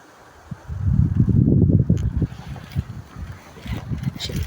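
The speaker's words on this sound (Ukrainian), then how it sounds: "Який вітер." Gusty cold wind over open fields buffets the microphone in low rumbling surges, strongest early on and then easing into choppier gusts.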